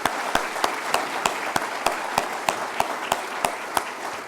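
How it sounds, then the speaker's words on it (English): Audience applause for dancers at a Diwali celebration, a steady crowd of clapping with a strong, evenly spaced beat of rhythmic claps running through it. "another round of applause for the dancers"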